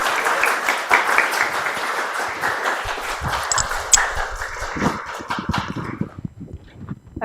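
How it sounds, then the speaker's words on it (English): Audience applause welcoming a speaker to a space talk in Baltimore, a dense steady clatter of many hands that thins out toward the end. "So please join me in a round of applause."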